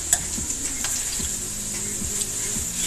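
Meat sizzles steadily in a hot pan, a constant bright hiss with soft scraping strokes of stirring recurring every second or so.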